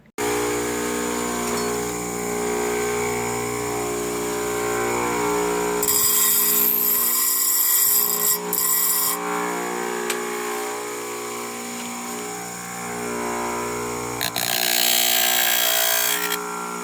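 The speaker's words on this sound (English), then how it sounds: "Grind into the cardboard," A chainsaw chain grinder's spinning wheel hums steadily, with a couple of harsher bursts as it grinds into a piece of cardboard; close, continuous and without talk.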